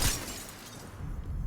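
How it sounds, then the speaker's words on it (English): Jars shattering in the video game Destiny 2: a single sharp, bright crash of breaking at the start, fading quickly into a low rumbling game ambience. "I'm hoping if my teammate shatters jars,"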